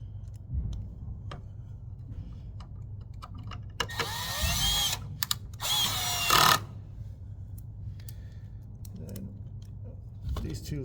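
Two short bursts from a power drill driving screws into a Schwinn AC exercise bike's housing, whirring loudly for a second or two each against a quiet room with scattered small clicks and handling noises.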